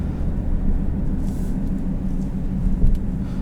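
Inside a 2018 Mercedes-Benz GLC 300 on the move, a steady low road and engine rumble fills the cabin at moderate level, with light tyre and wind noise and no voices.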